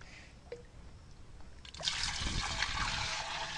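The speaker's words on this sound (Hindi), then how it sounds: "चार लीटर पानी डालबे" Water is poured into a container for making a fish tonic, starting as faint trickling and then a fuller, steady splashing stream heard close for the second half.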